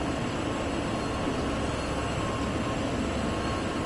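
An SD70ACE locomotive moves in a train simulator video game, giving a steady, even rumble and hiss of the engine and rolling wheels with a faint high whine, constant and unbroken, with no talk.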